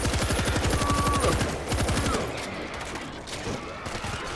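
Rapid automatic gunfire from players shooting zombies in the video game World War Z, a dense burst of shots that stops partway, leaving scattered single shots and clatter behind.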